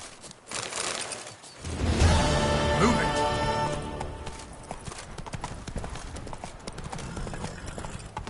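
Roach, the horse in The Witcher 3, gallops with fast, loud, rhythmic hoofbeats close by, mixed with tack jingle and a short whinny, over a constant game background.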